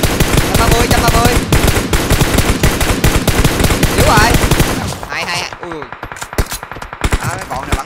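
Enemy gunfire rattles in the video game PUBG Mobile, a loud, rapid, sustained automatic burst for about five seconds, then sparser, lighter shots continue with some faint overlapping sounds.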